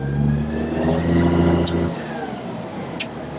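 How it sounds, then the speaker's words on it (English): A 2003 Freightliner FL70 truck with a digger derrick runs its engine at high idle, a steady close mechanical drone that drops to a lower, quieter hum partway through, with a couple of brief high clicks. "So high idle on low, and then super high idle."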